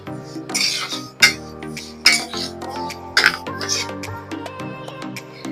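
Lentils being stirred in a cooking pot over a medium flame, with a spoon clinking against the pot's metal sides in several sharp, separate knocks. A voice talks throughout, close by.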